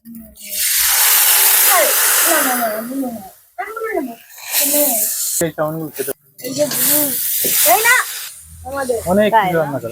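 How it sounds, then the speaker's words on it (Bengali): Chow mein noodles dropped into hot oil hiss and sizzle loudly in bursts, while someone talks over the frying throughout. "তেল গরম হয়ে গেছে চাউমিনটা দিয়ে দেবো"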